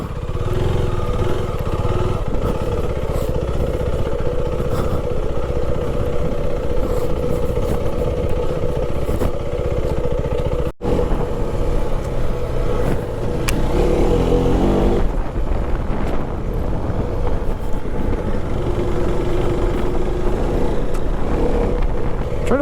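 Adventure motorcycle climbing a narrow, rain-soaked mountain road, its engine droning steadily and close up with repeated throttle changes, revving surges and rattling clatter over the ride.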